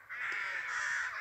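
A crow gives one harsh, drawn-out caw, close and fairly loud, heard alone.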